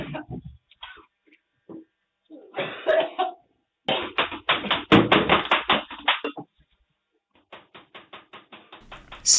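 Bikes and chairs are thrown at police during a confrontation outside a house, producing a series of loud, irregular crashes and clattering knocks with brief pauses between bursts.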